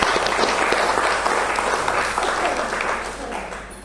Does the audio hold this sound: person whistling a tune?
no